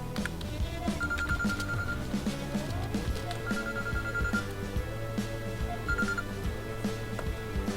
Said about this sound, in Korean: 전화가 왔어요.